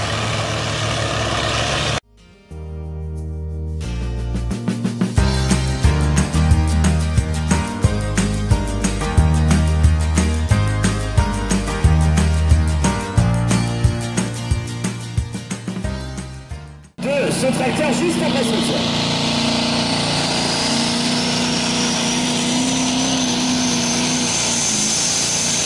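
Threshing machines running at an agricultural fair, a loud, steady mechanical clatter and engine drone with rapid regular beating that cuts off abruptly, followed by a quieter noisy rumble of the outdoor event.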